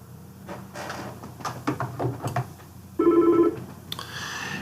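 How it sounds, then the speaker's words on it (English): A phone rings for an incoming call placed through a click-to-dial application, with one short electronic ring burst midway after some quiet clicks and shuffling, heard close and clear. "my phone started ringing"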